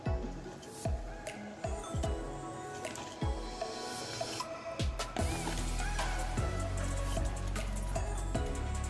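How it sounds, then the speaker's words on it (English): Chicken wings going into a bubbling sauce in a cooking pot, giving a series of soft wet plops and squishes with steady simmering bubbles beneath, close and fairly loud throughout. "So right now we're gonna just add the wings to the sauce."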